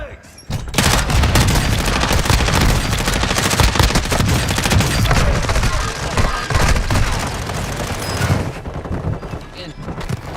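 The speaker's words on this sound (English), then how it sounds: "Tossing smoke grenade! Throwing Semtex!" Heavy video-game gunfire rages almost nonstop, with rapid automatic bursts and booms as a smoke grenade and Semtex are thrown in a battle-royale match, loud and dense before tapering near the end.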